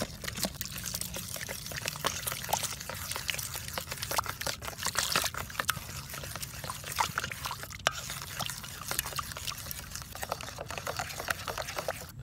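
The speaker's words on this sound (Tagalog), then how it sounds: "eto na yung gagawin nating wet butter. Lalagyan natin ng tubig." Water trickles and pours into wet batter being mixed outdoors for frying cobia fish fillet, soft close liquid dribbling with little clicks and drips throughout.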